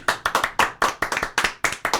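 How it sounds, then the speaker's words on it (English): A small group claps their hands together in a room, a quick run of sharp, close claps arriving in several uneven bursts, with no talking. "Did you guys just clap?"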